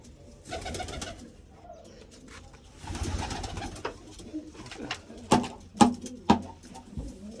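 Pigeons cooing close by in a rural setting where they are fed grain, several soft throaty coos in bursts, with a few sharp pecks or taps near the end and no talking.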